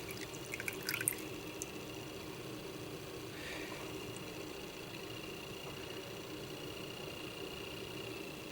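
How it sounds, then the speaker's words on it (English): Airbrush parts are rinsed under water, a quiet steady running-water hiss with a few brief splashes and drips near the start. "What I'll do is I'll do a quick rinse off and just see if this stuff just sort of comes right off with water now."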